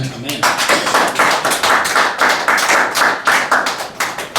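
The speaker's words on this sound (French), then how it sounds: "Acclamons pour le Seigneur." A church congregation claps together in a steady rhythm during a French-language worship service, the loud, even applause continuing throughout with voices mixed in.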